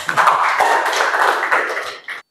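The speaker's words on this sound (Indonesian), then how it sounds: "Tepuk tangan loh buat Dinda." A classroom of students claps for a classmate named Dinda, a dense, steady patter of many hands lasting about two seconds before stopping abruptly.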